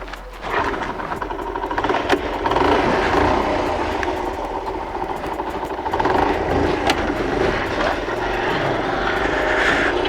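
A mint 1981 Honda ST50 Dax motorcycle with 1,472 km on it idles and runs nearby, its small engine holding a steady, continuous buzzing drone without pause.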